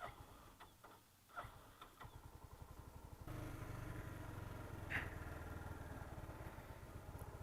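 A motorcycle engine idles with a steady, chugging putter, starting faint and uneven, then settling into a louder, even rhythm.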